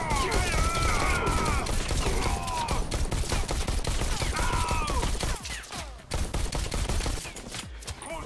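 Rapid, sustained gunfire from the VR shooter game Bullet Train, with dense overlapping shots and impacts filling the whole clip, loud and close, briefly dropping out near the end before resuming.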